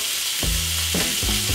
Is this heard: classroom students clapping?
no